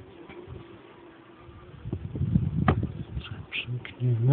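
Honey bees buzzing inside an opened beehive, a soft steady hum close by with a few louder passes and faint handling knocks near the end.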